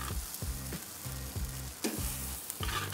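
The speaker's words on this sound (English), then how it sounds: "we'll load them on and it doesn't really matter where you put them on the grill" Shrimp and swordfish sizzle on a hot grill, with a dense frying crackle and a rhythmic run of low thuds and scrapes as the pieces are loaded onto the grates, close and steady, no talking.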